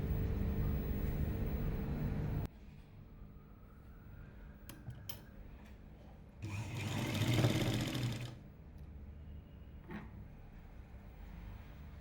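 A sewing machine stitches a chudidar neck reinforced with canvas, running steadily for a couple of seconds, then in a louder burst after a quiet pause broken by small clicks.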